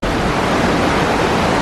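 Waterfalls in the Okutama gorges make a dense, loud, unbroken roar of falling water that sounds close, steady and without pause.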